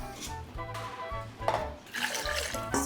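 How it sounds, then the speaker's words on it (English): Water poured into a bowl of kadhi batter of gram flour and yogurt in a home kitchen, a steady splashing trickle with clinks from the bowl and a rising gush near the end. "We're gonna keep whisking this, adding more water."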